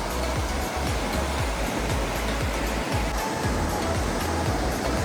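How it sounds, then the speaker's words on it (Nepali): The small, milky-white Barshani river in Manang rushes past close by, a loud, continuous roar of turbulent water with no pauses. "हाम्रो वर्षानी खोला सानो छ तर कस्तो सेतो यार दुध जस्तै सो ब्युटिफुल"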